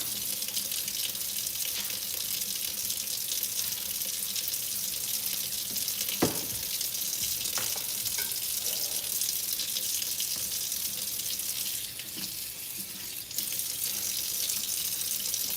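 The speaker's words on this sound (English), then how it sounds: "And I need to wash my hands." Running tap water splashes steadily into a kitchen sink as hands are washed, a constant close gushing stream lasting throughout with small shifts in the flow.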